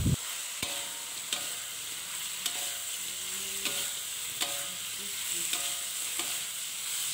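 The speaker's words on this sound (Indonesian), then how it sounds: "Kita aduk-aduk sampai bumbunya itu benar-benar meresap dan juga merata." Chicken is stirred in sizzling spices, a steady fry hiss broken by regular scraping knocks of a utensil against the pan, with a brief spoken word in Indonesian.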